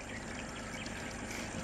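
Water rushes steadily past near paddy fields and hills at Vazhalikavu, a dense, even roar of flowing water with no pauses and no voices.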